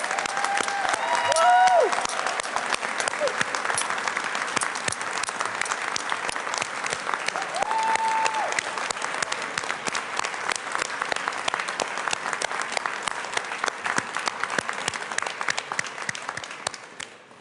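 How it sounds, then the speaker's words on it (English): An audience at New York City Mayor Bill de Blasio's last-day event bursts into sustained, dense applause with a whoop near the start, clapping steadily for about seventeen seconds before tapering. "So please give yourselves a round of applause."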